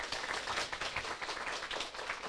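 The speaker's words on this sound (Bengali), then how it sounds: "উইথ আ ক্ল্যাপ আমরা হাততালি দিয়ে ওনাকে ওয়েলকাম করব" An audience claps steadily to welcome a speaker at a scientific talk, a dense continuous patter of many hands at close range with no voices.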